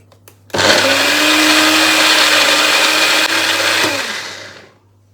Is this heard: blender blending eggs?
yes